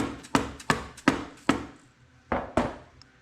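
A hammer taps a dowel pin into a Honda XL250 engine with six sharp metallic knocks, four quick in a row and two more after a short pause, close and clear.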